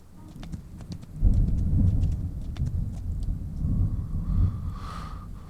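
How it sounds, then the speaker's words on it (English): A thunderstorm rolls over the desert, a low sustained rumble of thunder swelling and fading in the distance, with faint ticking and scattered light noises above it. "With the storm in the background like that, that looks pretty cool."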